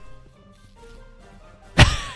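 A creeper exploding in a Minecraft game: one sudden, loud burst near the end, after a quiet stretch of soft game ambience.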